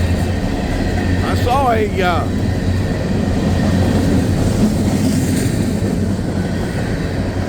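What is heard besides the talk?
empty coal train with DPU rolling on siding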